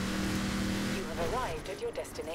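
In Forza Horizon 4, a car engine runs at full throttle with a steady droning roar that rises in pitch and pushes forward, while someone talks over it.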